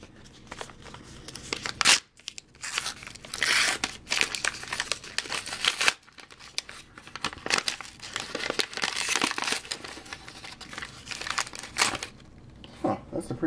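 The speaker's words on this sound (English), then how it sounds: "Better use my scissors." Scissors cut open a mailed package holding a clay figure, with crinkly paper and plastic rustling and snipping in irregular bursts broken by brief pauses, close and fairly quiet.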